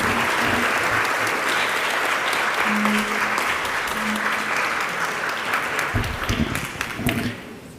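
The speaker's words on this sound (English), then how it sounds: "Can we have another round of applause for Secretary Holland," An audience at an Indigenous peacebuilding summit gives another round of applause for Secretary Holland, loud sustained clapping that fades toward the end, with a few brief voice fragments under it.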